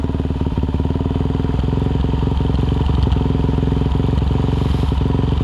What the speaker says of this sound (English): My bike's not happy because it's cold.